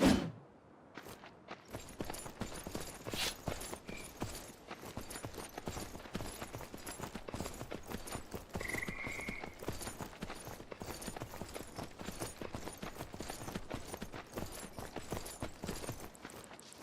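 A horse's hooves in the video game Myth of Empires clip-clop in a fast, steady rhythm, repeated close hoofbeats running throughout with a brief tone partway through.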